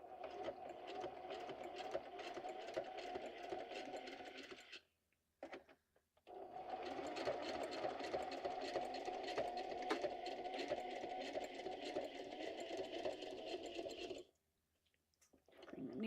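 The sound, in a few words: sewing machine stitching a junk journal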